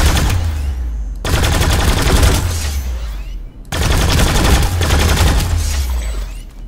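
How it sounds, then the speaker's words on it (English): Vanu light machine gun firing in the game Planetside 2, two long sustained bursts of rapid automatic fire separated by brief pauses, loud and close with no talking. "let me put off some range rounds here."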